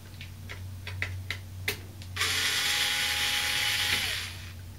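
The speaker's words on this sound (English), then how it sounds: "there are two screws on top that have to come out" Clicks from a screwdriver working two screws out of the top of a TiViBox home-theater PC case, a few sharp ticks followed by a steady buzzing whir from a powered driver, close and moderately loud.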